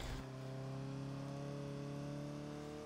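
Porsche engine in the racing game Forza 6 holding a steady high-revving drone with sustained harmonic tones, even and continuous, with no talk.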